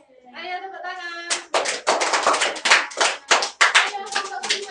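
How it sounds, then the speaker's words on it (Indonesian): A primary school class claps hands together in a burst of fast, loud, irregular applause, preceded by a short spoken or sung phrase from the group. "Ayo tepuk tangan."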